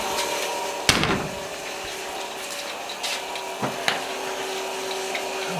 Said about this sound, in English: I'll go ahead and cut the fuel pump on.